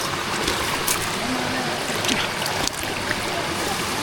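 A river rushes steadily through a crossing, a loud, unbroken wash of flowing water close by, with faint splashes and stray voices in the background.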